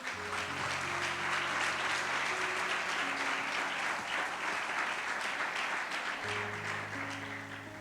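Steady congregational applause during a Spanish-language church service, a continuous bed of clapping with soft sustained organ or keyboard tones underneath.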